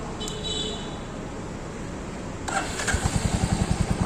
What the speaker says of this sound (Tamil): வண்டி இன்ஜின் ஆன் பண்ணுங்கள்.